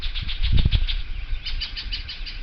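A bird in a Western New York berry garden gives quick, repeated high chirps with a burst of fluttering wingbeats. It sounds fairly close and loud, and no one talks.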